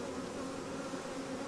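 Bees hum at a hive entrance fitted with a small-hive-beetle device and a perforated platform, a dense, continuous buzz from many insects close by, with no voices.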